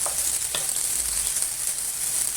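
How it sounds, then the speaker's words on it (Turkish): Eggplants fry in hot oil in a pan while imam bayildi is prepared, a steady close sizzle with a few soft stirring touches and no talking. "Patlıcanlar güzel bir şekilde kızarıyorlar."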